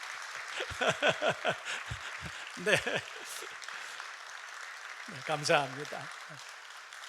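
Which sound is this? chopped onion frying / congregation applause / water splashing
congregation applause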